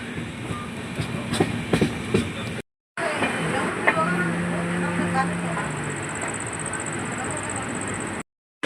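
A passenger train runs along wet tracks after rain near Bangarpet, a steady rumble with rhythmic wheel clatter and a brief squeal, with a short gap partway and someone talking over it.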